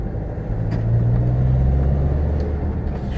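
A Nissan X-Trail with a fault engaging first gear drives along with a steady, close engine rumble and road noise that swells slightly mid-run as it moves up through the gears, with no talk.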